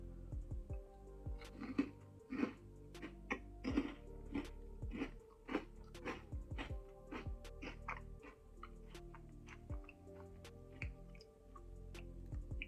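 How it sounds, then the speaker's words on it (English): Close-up chewing of a snack, a string of crisp bites and crunches in an irregular rhythm, loud and near against a quiet background. "Sorry for like chewing noises and stuff, but here we go."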